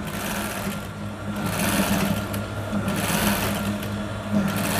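Electric sewing machine stitching a plain kameez, a steady rapid mechanical whirr with a fast needle rhythm and a low motor hum, running continuously and close.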